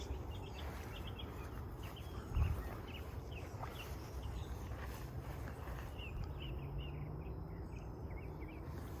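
Faint birdsong chirps repeatedly in the background on a Florida natural farm, mixed with a steady insect buzz and outdoor ambience, with no talking.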